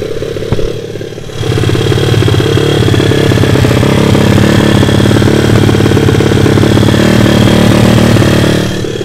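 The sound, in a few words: SSR 150-TX pit bike 160cc engine idling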